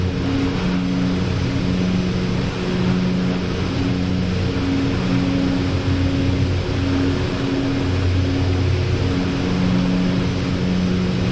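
An OV-10 Bronco propeller aircraft in DCS World flies a landing approach with flaps half down, its engine giving a loud, steady, unbroken drone for about eleven seconds with no voices over it.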